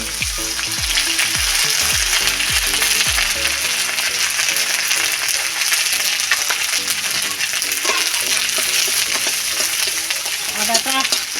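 Ginger frying in hot oil in a wok for a vegetable dish, a loud steady sizzle throughout with faint stirring scrapes and no talk.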